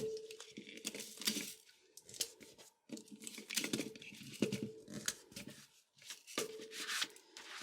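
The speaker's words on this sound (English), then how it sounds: "Then I can tape the next one down." Adhesive tape pulled off a roll and pressed down onto pattern paper during sleeve pattern drafting, heard as a series of short close tearing and crinkling bursts with soft paper handling between them.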